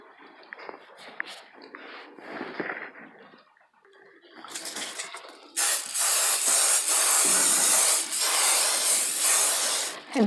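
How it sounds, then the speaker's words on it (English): A can of butter-flavored cooking spray hisses onto metal muffin tins in a long, loud, continuous burst, after a few quieter handling rustles and clicks. "now I'm going to spray my muffin tins"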